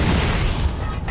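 Ship cannons fire in a naval battle in Assassin's Creed Rogue, a short burst of heavy booming blasts running together into one dense, loud rumble.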